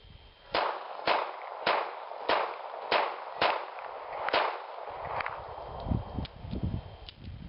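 Snub-nose .38 revolver fired at close range, seven sharp, loud shots spaced evenly about half a second apart, followed by clattering and shuffling noises.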